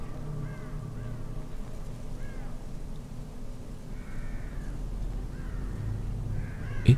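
A crow caws several times in a dim forest scene of the Psychobreak game, each call short and moderately distant, with a low steady hum running underneath throughout.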